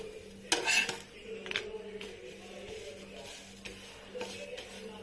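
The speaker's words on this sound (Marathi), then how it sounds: "बघा अशा प्रकारे आपला पापड भाजून घ्यायचा आहे" A papad is roasted in a pan with a little oil. Sharp metallic clinks and scrapes of a utensil against the pan come in short bursts, loudest near the start, over a faint low background hum.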